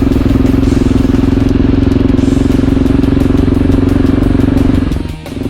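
A motorcycle engine drones loudly and steadily while riding a coastal road near Cala Girgolu in Sardinia, with wind rush over the constant hum before the sound dips briefly near the end.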